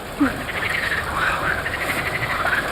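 Frogs croak in a busy outdoor chorus, with repeated rasping calls layered close together over a steady background and a voice faintly underneath.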